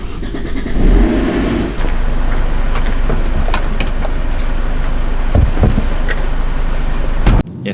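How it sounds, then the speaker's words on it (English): An old Mercedes car engine idles and warms up close by, with a short rev early on, then a steady running drone and a few clicks and knocks. "These old Mercs, you need to make sure you warm up the engine."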